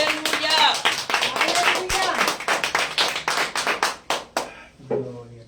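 Congregation at a Spanish-language church sermon clapping hands together in a dense, sustained burst of applause that thins into scattered claps toward the end.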